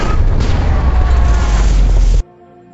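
A cannon blows up in a film battle scene, a huge close explosion with a dense roar that holds for about two seconds and then cuts off abruptly to near silence.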